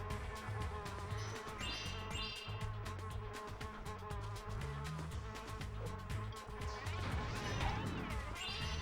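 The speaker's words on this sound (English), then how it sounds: "Yeah, these bee enemies are really easy to take out." Bee enemies buzz steadily in the game Spyro: Enter the Dragonfly, a droning insect hum mixed with game music and effects throughout, fairly quiet overall.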